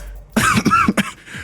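A character coughs in the I Love You game, a quick close cluster of three or four harsh coughs in a row, alone and fairly loud.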